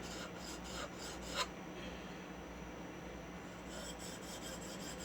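The iron of an antique 1921 Stanley #40 scrub plane is honed on a sharpening stone to form a back bevel, a soft, faint, steady rasping rub in repeated strokes, with one brief louder scrape.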